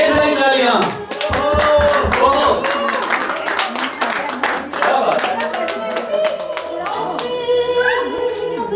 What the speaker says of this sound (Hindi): ढेर सारी तालियां।